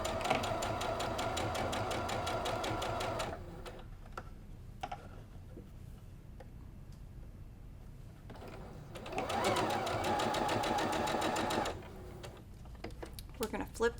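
A sewing machine stitching a quilt block seam runs in two bursts of fast, steady mechanical whirring, close and loud, separated by a quieter stretch with someone speaking over faint handling noise.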